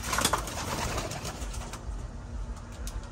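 Young racing pigeons in a loft cooing softly, several low coos close by against a quiet indoor background, with occasional faint rustles and no talking.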